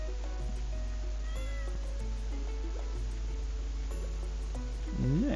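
A cat meows several times over the steady background music of the farming video game Stardew Valley, short mid-pitched calls spread through the loop with a louder one near the end.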